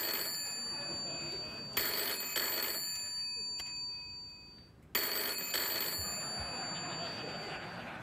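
Telephone ringing on a late-night talk show set, two bursts of electronic ringtone trills separated by a short pause, clear and up close with no talking over them.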